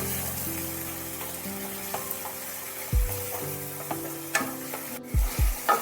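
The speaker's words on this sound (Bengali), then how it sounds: "ভালোভাবে মশলার সাথে পেঁয়াজ, রসুন, আদা বাটা কষিয়ে নিতে হবে।" Spices cooking down in oil with onion, garlic and ginger paste for an eggplant and fish bharta, stirred with a few scraping strokes over a steady sizzle, with a soft tonal background underneath.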